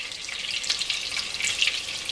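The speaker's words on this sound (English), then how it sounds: "The hot dogs are sizzling nicely." Steady, close sizzling and crackling of hot dogs frying in a pan, continuous and fairly loud, with no voices.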